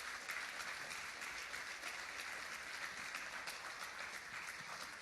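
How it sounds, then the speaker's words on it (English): An outdoor crowd at a community rally against gun violence applauds, a continuous wash of many hands clapping at a moderate distance, steady and unbroken, with no speech on top. "One more round of applause all the way from New York City."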